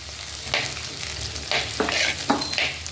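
Ginger and chopped tomato sizzle in a hot pan for crab curry, with several scraping stirs of a spoon breaking through the steady frying hiss.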